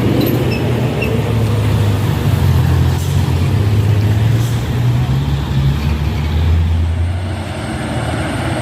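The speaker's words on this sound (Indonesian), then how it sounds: "Ya harus dihadang ya dari atas karena truknya mau naik" A heavy, heavily loaded truck labors uphill on a road with a deep, continuous engine rumble that stays loud and steady throughout, with other traffic noise blended in and no talking.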